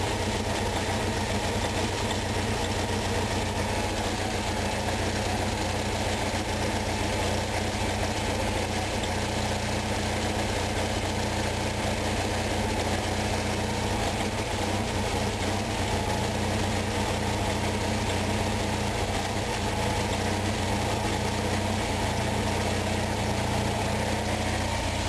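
A small Onan engine runs steadily at idle right after a carburetor mixture adjustment, a dense continuous drone with a low rumble and even, unbroken loudness throughout, close by and without any voices.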